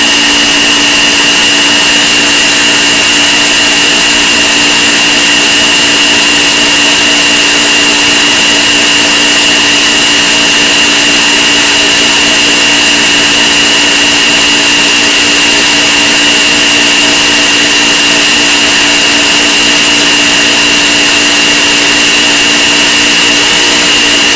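An electric mixer whips heavy cream into homemade butter, giving a loud, steady motor whir with a constant whine that holds unchanged from start to finish, with no voices.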